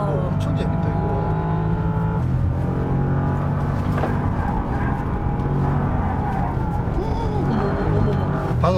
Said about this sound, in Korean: 이게 타이어가 약간 밀리는 소리인가요?